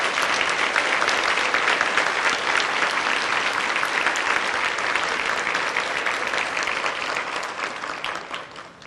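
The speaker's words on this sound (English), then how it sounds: "if you can help me give her a round of applause," A large room of guests at the Alzheimer's Association Reason to Hope breakfast applauds together in a dense, sustained wash of clapping that holds steady for several seconds before easing off at the end.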